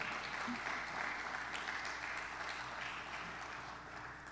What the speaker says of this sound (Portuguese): Uma salva de palmas para ele, aleluia.